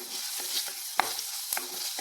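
Coconut chutney (chammanthi) roasting in a pan gives a soft continuous sizzle, with occasional clinks and scrapes as it is stirred.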